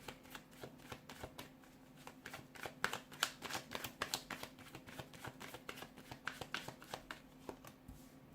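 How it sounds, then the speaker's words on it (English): Repeated crisp riffling bursts of tarot cards being shuffled, close and steady, with short pauses between runs and no talking. "give the cards a shuffle, and let's begin"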